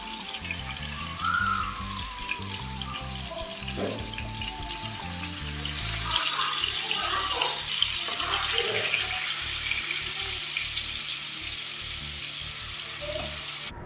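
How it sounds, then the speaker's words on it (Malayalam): Chicken fries in a pan at home, a steady sizzle that runs throughout, while water runs from a tap and dishes clatter in the kitchen. "അങ്ങനെ രാത്രിത്തേക്ക് ചിക്കനൊക്കെ പൊരിക്കുകയാണ് കേട്ടോ"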